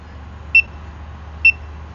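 Two short electronic low-battery beeps from FPV goggles, spaced about a second apart, high-pitched and clear over a steady low hum.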